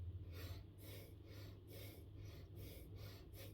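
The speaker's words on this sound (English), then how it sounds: "Because I'm turning my head right, I'm breathing out." Rhythmic breaths rasp in and out close to the microphone in time with side-to-side head turns during a breathing exercise, a soft steady series of repeated airy pulses with no talk.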